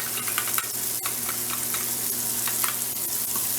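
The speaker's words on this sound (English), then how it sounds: "Looks like it's still got enough oil going on there, so I'm going to throw my garlic in." Garlic sautés in olive oil in a pan for an Italian-style shrimp and polenta dish, a dense constant sizzle with frequent small pops and spits, heard up close and alone without voices.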